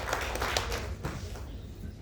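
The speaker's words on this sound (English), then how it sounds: "Please give a big round of applause to Gautam sir as well." An indoor audience at a youth event claps for a guest speaker, a dense wash of hand claps that holds steady for about two seconds, with a few sharper claps standing out near the start.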